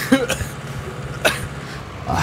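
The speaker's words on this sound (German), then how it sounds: "da kriegt man mich mal auf den Husten" A man coughs a few times in short, close bursts while playing a farming simulator game, followed by scattered spoken remarks.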